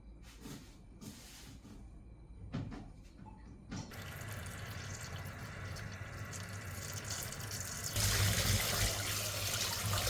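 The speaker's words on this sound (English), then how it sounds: "I'll wash the apples to eat as a snack." Tap water runs into a sink while apples are washed, first soft trickles and splashes, then a steady louder rushing stream that swells further near the end, with no voices.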